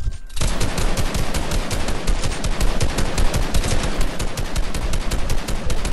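Loud rapid automatic gunfire in a video game arena match hammers without pause in a dense, evenly spaced burst that runs through the whole stretch, close and unbroken by talk.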